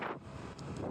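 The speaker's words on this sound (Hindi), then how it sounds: "मस्त हवा चल रही है मस्त हवा लग रही है" Wind blowing outdoors on a roadside walk toward Mathura, a brief buffeting gust of wind noise against the microphone, fairly loud and close, with no talk.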